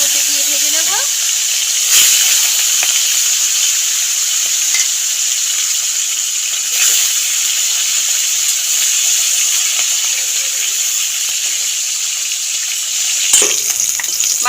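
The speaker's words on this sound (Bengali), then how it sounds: "তেল গরম হয়ে গেছে, নুন হলুদ মাখা মাছ তেলের মধ্যে দিয়ে ভেজে নেব।" Fish coated in salt and turmeric fries in hot oil, a steady loud sizzle and hiss lasting throughout, with a few brief clinks and stirring sounds; no talking.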